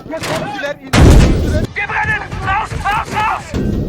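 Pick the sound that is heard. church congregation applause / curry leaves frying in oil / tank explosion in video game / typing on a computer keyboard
tank explosion in video game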